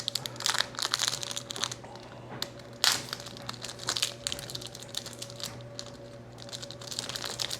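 A small plastic bag of achiote paste crinkles and rustles in bursts of sharp crackles with pauses between, close up over a steady low kitchen hum.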